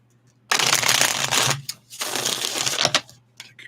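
A deck of reading cards is riffle-shuffled up close, two dense rattling bursts of about a second each separated by a short pause, followed by a few soft taps, with no talking.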